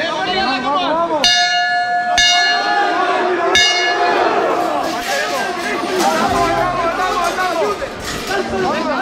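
A bell on a Semana Santa procession throne in Málaga rings three loud, sharp strokes at even intervals, ringing out over a dense, excited street crowd with voices shouting and chattering throughout.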